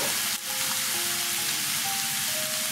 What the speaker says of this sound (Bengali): পেঁয়াজটা কষানো হয়ে গেছে, আমি এবার বাকি মশলাগুলো দিয়ে দেবো